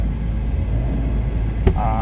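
A 2010 BMW 335d diesel engine idles after a cold start, a steady loud low rumble with a brief click near the end and a short tonal hum after it.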